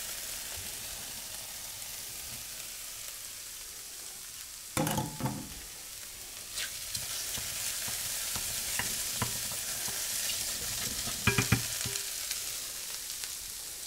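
Chanterelle mushrooms fry in oil in a pan with a steady, bright sizzling hiss, broken by a few louder clattering stirs and scrapes near the start and end.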